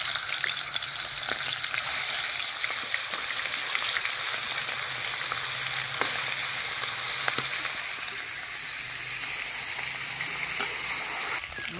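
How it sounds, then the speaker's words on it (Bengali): Katla fish head fries in hot oil, giving a continuous, close, even sizzle with a few faint pops and spatters and no voices. "মাছের মাথা ভাজা হয়ে গেছে"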